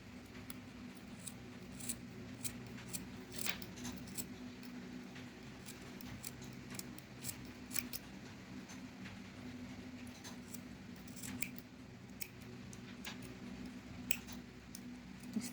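Scissors snip through cotton macrame threads, giving soft, crisp cuts repeated at irregular intervals over a faint low background hum, close and quiet.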